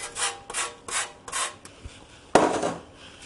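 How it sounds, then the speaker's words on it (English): Lemon rind rasped on a kitchen grater while preparing granola: four or five quick, close scraping strokes in an even rhythm, then a brief pause and a sharper, louder scrape. "I've got a lemon, which I'm just going to zest a little bit of the zest off"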